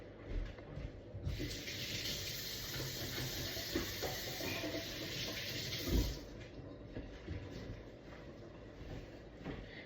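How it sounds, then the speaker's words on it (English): Tap water runs steadily into a kitchen sink for hand washing during crock pot roast prep, a broad hiss starting after a second and stopping near six seconds, close and fairly loud with faint background noise. "Let me wash my hands real quick."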